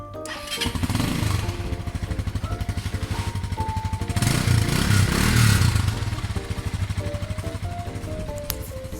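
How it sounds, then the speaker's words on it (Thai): Small 2018 Ryuka RK150 motorcycle with a single-cylinder engine idling steadily and close by, a low, even chugging pulse that swells briefly in the middle, with no talk over it. "ตัวเครื่องยนต์นะครับ เงียบมากนะฮะ ไม่มีดังไม่มีควันนะครับ"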